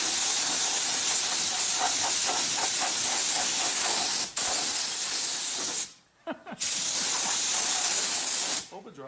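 An aerosol can sprays pink paint onto an engine in long, steady hissing bursts close to the mic, with short pauses between sprays.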